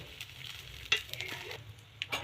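Mustard seeds sizzle in hot oil in a kadhai, a soft steady crackle with a few sharper pops, close and moderately quiet, no talking.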